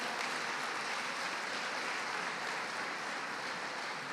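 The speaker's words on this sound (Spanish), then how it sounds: "Les damos un aplauso, hermanos." Applause from a church congregation fills the space as a steady, dense wash of clapping, heard at a moderate distance, continuous throughout without gaps or speech.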